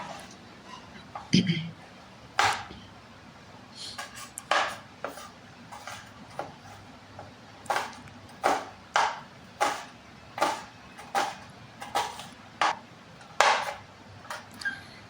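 An onion is chopped finely with a knife on a cutting board, giving a steady series of sharp, close knife taps in an irregular rhythm, with short pauses between bursts.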